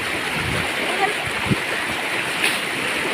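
Strong flowing water splashes steadily over an elephant, a continuous broadband rush with a few brief spattering bursts.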